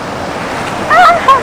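A waterfall at Putikunta reservoir in the Y. Ramavaram agency area roars with a steady, close, broadband rush, and a few brief, high chirps rise over it near the end.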